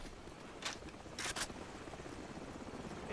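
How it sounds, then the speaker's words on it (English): A helicopter in Call of Duty 4: Modern Warfare, a low, faint rotor drone hanging in the background, broken by a few short, sharp bursts of noise. "Hold on, the helicopter's back."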